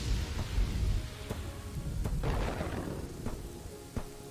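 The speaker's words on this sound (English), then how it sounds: "You can just hear the thunder." A thunderstorm in the video game Kingdoms and Castles brings steady soft rain with low rolling thunder rumbles and a few sharp cracks, moderately quiet and with no talk.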